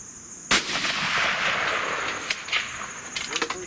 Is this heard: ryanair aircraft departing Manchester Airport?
no